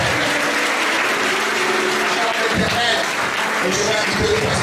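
A church congregation applauding during a prayer service: dense, steady clapping from many hands fills the space, with voices mixed in throughout.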